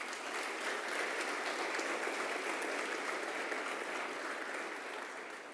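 Steady, dense applause from a church congregation during a sermon, sustained at an even level for several seconds with no talking over it.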